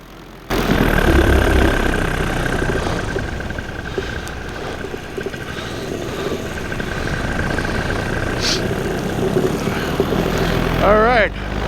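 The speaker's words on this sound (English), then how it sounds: "All right, another successful launch on the retracted trike." A powered paraglider trike engine roars steadily at close range through a takeoff launch on a retracted-wheel trike, loud and sustained from start to finish, with a brief higher whine near the end.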